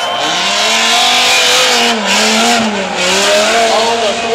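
Dodge Viper drift car on BFGoodrich tires during a 2008 Long Beach drift competition, engine revving loud and close with harmonic pitch sweeps rising and falling, under continuous tire squeal and broadband roar, with announcer-style commentary faintly mixed in.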